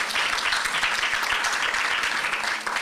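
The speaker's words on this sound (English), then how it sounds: "can we please give him another round of applause" A convention audience applauds at a youth development event, dense steady clapping filling the room with no speech over it, then easing slightly near the end.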